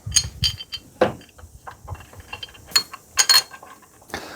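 Ratchet clicking in short, uneven bursts while bolting a bracket back onto an engine during a Falcon cam tensioner oil leak fix, close and crisp with brief pauses between strokes.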